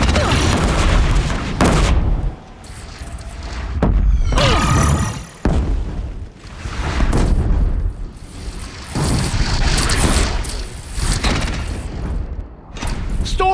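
A Deathbringer machine in the video game Horizon Zero Dawn, on Very Hard mode, unleashes heavy fire: loud, continuous rumbling booms and bursts rolling one after another, with voices partly audible in the din.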